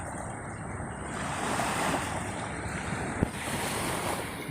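Steady wash of sea surf rolling in on a rainy day, broad and continuous, with wind noise buffeting the microphone throughout; a brief sharp knock partway through.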